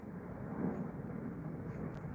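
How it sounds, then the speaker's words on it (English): An airplane approaching overhead gives a steady, low broadband rumble, moderately distant and even in level, with no one speaking. "So I can hear a plane. It's coming now."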